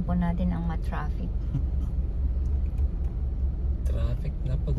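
Dense road traffic rumbles steadily near Katara and Lusail, a constant low roar of many cars with short bursts of louder passing vehicles, while people talk over it throughout.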